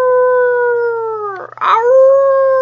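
A reader's voice imitates a dog's long, anguished howl, loud and close, holding a steady wailing tone, cracking briefly in the middle, then resuming.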